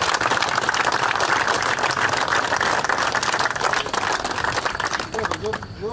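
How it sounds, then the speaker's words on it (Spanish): A gathered crowd at an outdoor family reunion in a town plaza claps in dense, sustained applause that thins out near the end. "Por eso pido un fuerte aplauso para la memoria de este querido amigo."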